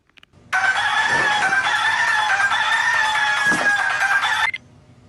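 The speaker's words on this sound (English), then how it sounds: "Rooster?" A single loud rooster crow rings out clearly for about four seconds, close by, with a brief cluck before it and near silence around it.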